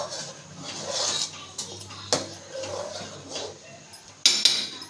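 A spoon scrapes and clinks against a cooking pot while kheer made with milk, ghee and batasha is stirred over a low flame, giving soft rubbing strokes with a few sharper metallic knocks, close and moderately loud.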